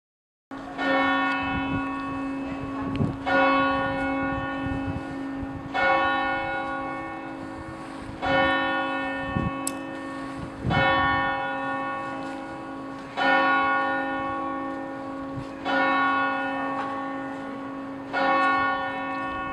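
A Henry Penn church bell in Peterborough, known as the Voice of the City, tolls alone in slow, steady strikes about two and a half seconds apart, each stroke loud and resonant with a long humming decay.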